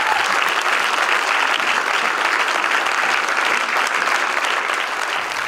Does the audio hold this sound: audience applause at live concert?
yes